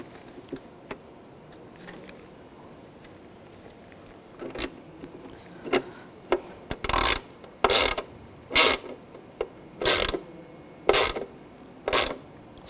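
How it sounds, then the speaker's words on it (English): Screws are driven into a 2006-2009 Mercedes-Benz E350 tail light with a ratcheting tool, a run of sharp, evenly spaced clicking bursts that start sparse and grow louder and more regular. "Take the screws,"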